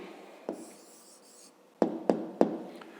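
Pen or pencil writing an answer on paper during a 5th-grade math exercise, with a soft scratchy stroke followed by three sharp taps and short scrawls, close and quiet with no talk.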